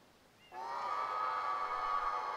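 A plant in Super Mario Sunshine on Isle Delfino lets out a strange, sustained whooshing tone that swells in abruptly and holds steady, fairly loud against quiet game ambience.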